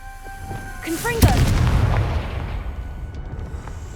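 The Confringo fire blast spell in Hogwarts Legacy goes off as a single heavy, booming explosion after a brief magical whoosh, then rumbles and fades.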